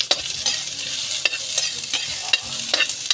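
Chili pepper and onion stirred and fried in a pan for native chicken, a steady bright sizzle broken by several sharp utensil scrapes and stirs, close and loud with no voices.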